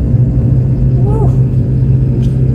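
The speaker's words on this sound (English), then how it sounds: "The old truck is taking it like a champ" An old truck converted from an ambulance labors uphill on a rocky mountain road, its steady low engine rumble droning continuously up close.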